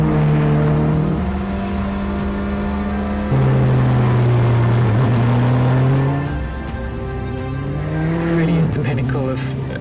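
A Praga sports prototype race car in a racing game holds a loud, sustained engine drone that shifts pitch through gear changes, with tyre noise and a voice talking over it.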